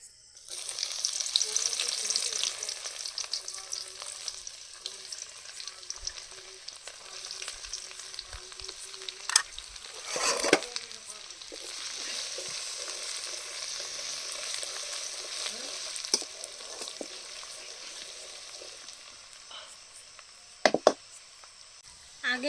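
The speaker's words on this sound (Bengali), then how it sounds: "আদা রসুন দু মিনিট ভেজে নিয়েছি" Chopped garlic and ginger frying in oil after chicken, a loud hissing sizzle that settles into steady crackle, with occasional utensil knocks and scrapes against the pan.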